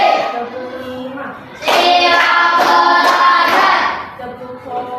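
Rhythmic group clapping from an elementary maths class, a run of crisp synchronized claps rising from a murmur of children's voices, loud and close, then fading back into chatter.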